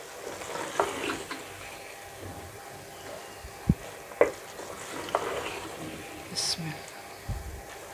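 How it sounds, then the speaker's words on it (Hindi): Minced meat keema cooking with green beans in a pan, with soft frying, stirring and scraping noises and a few sharp utensil clinks, alongside faint background sounds. "कीमा को ऐसे भून लेंगे।"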